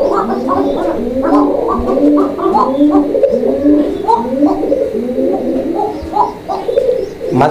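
Koka pigeons cooing in a steady run of soft, throaty, repeated calls, several birds overlapping close by with a light chirp here and there.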